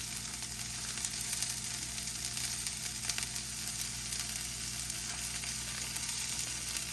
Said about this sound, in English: Just gonna give that a stir for 30 to 60 seconds here.